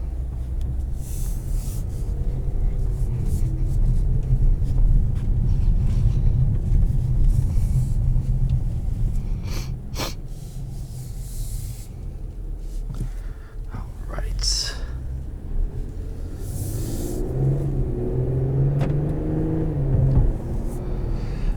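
2022 Infiniti Q60 Luxe being driven, a steady low engine and road rumble inside the cabin throughout, with quiet speech passing over it.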